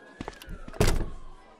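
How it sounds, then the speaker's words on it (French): Doors opening in a Resident Evil audio drama set in Raccoon City: a short mechanical slide and thunk, loud and close, over a low background hum, with no voices. "Les portes s'ouvrent."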